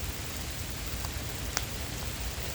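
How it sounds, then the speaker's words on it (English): Steady rain falls on surfaces nearby, a constant hissing patter with occasional distinct drops, fairly faint and without voices. "I'm not gonna do it any longer because it is raining."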